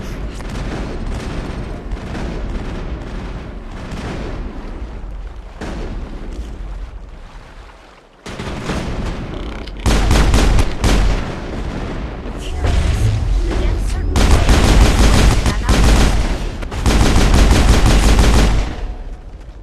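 Intense combat gunfire from Mass Effect, with dense bursts of automatic weapons and heavy booming blasts that grow louder and more sustained toward the end, and voices heard briefly among the shots.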